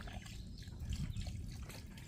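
A steady, close trickle of water spills from an overflowing bucket fed by a garden hose at an Appalachian Trail shelter in the Virginia mountains, running continuously with no voices.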